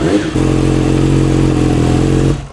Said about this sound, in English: The bike sounds insane.